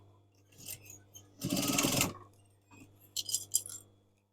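A sewing machine back tacks the corner of a lined curtain. It runs in three short bursts: a brief whir, a longer run of stitching, then a final quick burst, with quiet gaps between them.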